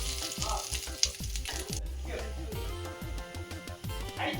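A snack fries in butter in a pan, crackling and sizzling steadily up close with occasional stirring clinks, while someone talks over the cooking.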